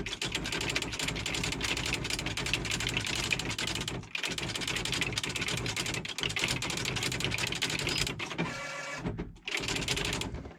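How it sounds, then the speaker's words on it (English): Rapid, continuous clatter of keys being struck on a typewriter, dense and close up, with a couple of brief pauses between bursts. "I'm going to do a little typing on it"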